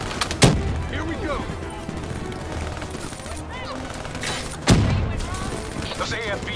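Heavy gunfire fills a Call of Duty: Black Ops III battle, with sharp loud shots and bursts over constant rattling fire and a couple of big booming hits, while voices talk underneath.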